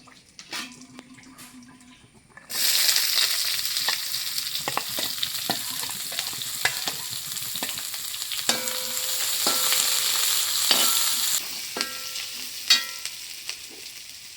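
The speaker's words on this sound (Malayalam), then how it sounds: "സവാളയും പച്ചമുളകും ചെറിയ ഉള്ളി അരിഞ്ഞത് ഇതിനകത്തേക്ക് ഇട്ട് കൊടുത്ത് നന്നായിട്ട് വഴച്ചെടുക്കാം" Chopped onion, green chilli and shallots drop into a hot pan and sauté with a sudden loud, hissing sizzle that holds steady, broken by scraping stirs and utensil clinks, with no talking.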